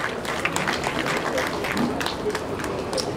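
Applause from an audience at a conference closing ceremony in the DR Congo, a continuous dense patter of many hands clapping at moderate volume, with some voices mixed in.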